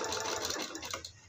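A sewing machine stitches fabric for baby sock boots with a short, steady, fairly quiet whirring run.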